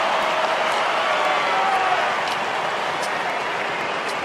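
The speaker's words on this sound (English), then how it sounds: "Crowd love it." A stadium crowd at an AFL match between West Coast and Geelong cheers and applauds after a goal, a steady broad roar with scattered claps heard from a distance.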